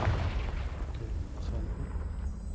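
A Confringo explosion spell in the game Hogwarts Legacy goes off as a steady, booming blast with a low rumbling tail that holds at an even loudness through the clip.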